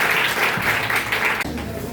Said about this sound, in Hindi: सभी आदमी का ताली बजा के अभिवादन करेंगे।